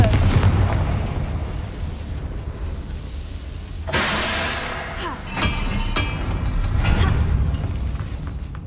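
Confringo blasting spell exploding in Hogwarts Legacy: a sudden loud burst partway through, followed by crackling debris and further sharp blasts over a rumbling game backdrop.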